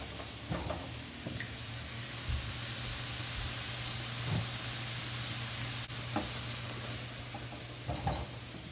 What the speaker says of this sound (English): I'm going to put in about a cup of onions. And we're just going to brown those up a little bit.